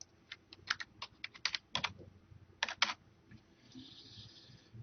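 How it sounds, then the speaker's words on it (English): Fingers type on a computer keyboard with quick, irregular key clicks in short bursts, close and clear, followed by a quieter pause. "which I'll go ahead and type in"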